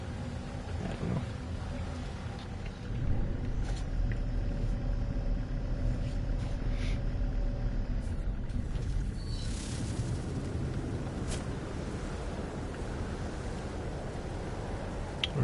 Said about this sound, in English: Some nice storm going on here